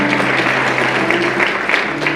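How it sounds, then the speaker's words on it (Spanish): A church congregation applauds a first-time visitor in the sanctuary, a dense, steady burst of clapping from many hands, loud and close, with no talk over it. "¿Quieren darle un aplauso a la señorita, por favor?"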